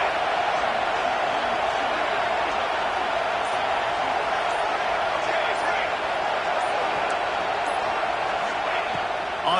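Dense, steady roar of a packed stadium crowd at a Clemson football game, loud and continuous throughout with no breaks, a broad wash of voices and noise filling the whole stretch.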